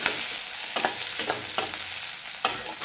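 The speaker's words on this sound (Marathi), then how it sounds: "हे चार पाच काजू आहेत ते मी टाकलेले ते छान असे भाजून घेणार आहे" Onion, coconut and cashews roasting in a pan for a vegetable dish, giving a steady close sizzle broken by several sharp scrapes as the mix is stirred.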